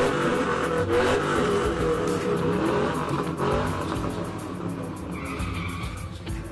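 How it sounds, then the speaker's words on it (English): Trucks rolling through a Cinco de Mayo parade, a steady roar of engines with revving and tire squeal, loud and close for the whole stretch. "Thank you to los arriesgados for bringing out their trucks."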